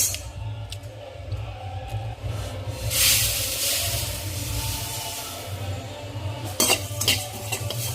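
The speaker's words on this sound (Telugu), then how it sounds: "ఇలా కలుపుతూ వేగించుకోవాలి" Sesame seeds dry-roasting in a pan while being stirred, with quiet scraping and light rattling of the spoon against the pan, coming in soft intermittent strokes over a faint background hiss.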